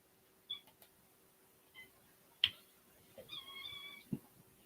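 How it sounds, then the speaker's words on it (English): A kitten meows several short times, soft and close, with small clicks and a brief rustle in a quiet room and no one talking. "I think the cat is out of food."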